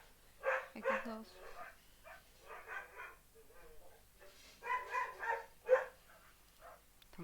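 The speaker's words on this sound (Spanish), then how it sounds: "Están como locos los perros afuera de mi casa." Dogs bark outside a house in a string of rough bursts, some close together and some spaced out, at moderate loudness and slightly distant, with no voices over them.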